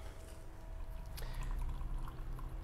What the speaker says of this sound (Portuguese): E agora vamos colocar a água.